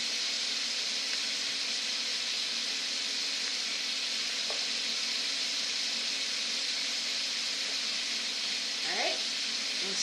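Onion, carrot and other vegetables frying in a pan for paella, giving a steady, even sizzle and hiss throughout, with a couple of faint clinks partway through.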